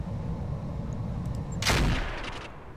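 Mortar fire in the mech strategy game Roguetech: one heavy, booming blast about midway through, rising out of a steady low battle rumble and trailing off into a rolling decay.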